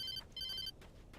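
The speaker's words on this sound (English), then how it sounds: "My phone ringing?" A phone rings in the Alan Wake video game, two bursts of bright electronic trilling separated by a short gap, clear and close against a low ambient rumble.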